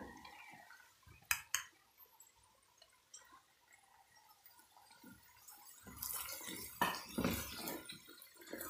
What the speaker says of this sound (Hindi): अब इसमें हम कटा हुआ प्याज डालेंगे।